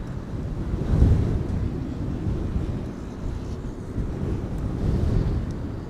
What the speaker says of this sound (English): The wind is pounding relentlessly.